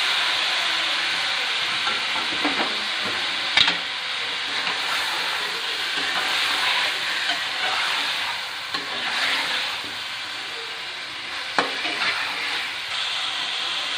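Chicken added to tomato paste frying in a pan while cooking chicken tikka, a steady close sizzle with stirring scrapes running throughout and a few sharper clinks.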